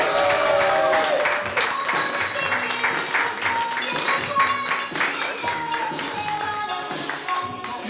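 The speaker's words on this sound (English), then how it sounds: "A big round of applause so far." A comedy club audience applauds and cheers through a live stand-up show, a steady wash of clapping with scattered whoops and murmuring voices, fairly close and sustained for several seconds.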